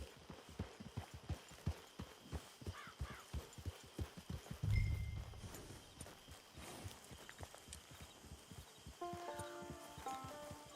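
Horse hooves clip-clop steadily in Red Dead Redemption 2, a regular walking rhythm of distinct close hoofbeats, with a brief louder thump midway and faint musical tones near the end.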